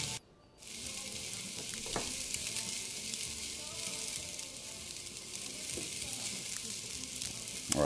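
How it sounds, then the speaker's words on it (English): Garlic, onions, bell peppers, carrots and celery sweat in a pot for a meat sauce, giving a steady, soft, close sizzle throughout with faint stirring clicks and no talking. "you add your garlic first, your onions, and then your bell peppers, carrots, and celery. And you'll sweat this all out for about 5 minutes or so"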